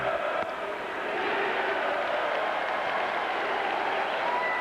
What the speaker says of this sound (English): The crowd's been giving Weaver a tough time ever since he came through the bullpen door, chanting his name.